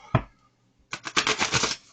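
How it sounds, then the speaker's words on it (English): A deck of tarot cards being shuffled: one sharp tap, a pause, then a quick riffling burst of cards flicking together, close and clear with no talking. "I'm going to give these a shuffle"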